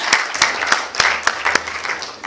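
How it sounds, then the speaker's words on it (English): Conference audience at a programmatic advertising summit clapping for one another, a loose, uneven run of individual claps with clear separate hits rather than a full roar, fairly close. "By clapping for one another."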